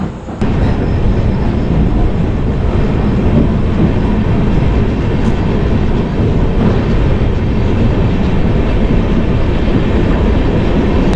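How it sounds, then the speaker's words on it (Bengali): A Digha to Howrah passenger train running past Tamluk toward Mecheda, its loud, steady rumble and rattle of rolling wagons filling the whole stretch close up, with no voices over the continuous noise. "সিগন্যাল দিয়ে দিয়েছে আমাদের ট্রেনের"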